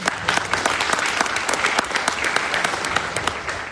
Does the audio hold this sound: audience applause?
yes